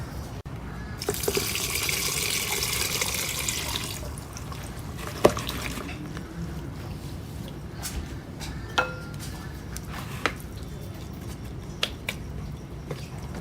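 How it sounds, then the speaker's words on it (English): Salted soybean brine poured over packed green striped cucumbers for pickling, a steady liquid splash for a few seconds followed by scattered soft taps and drips, quiet and close. "when your bean salt is cooled down or warm up, go ahead and just pour it on top and cover it up"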